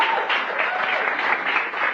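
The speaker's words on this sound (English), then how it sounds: "Let's give them a round of applause" Audience applause at a celebration event in a Ritz Carlton ballroom, a steady dense wash of clapping lasting a couple of seconds, with voices mixed into it.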